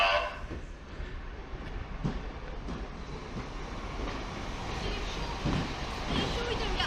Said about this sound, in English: Next train to arrive at platform number 2 with the 1600 steam service